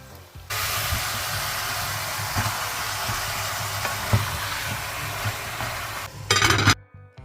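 Spiced chicken simmers and sizzles in a pot for Comorian pilao, a steady close hiss with small bubbling pops and a brief louder stir-like burst near the end, no voices.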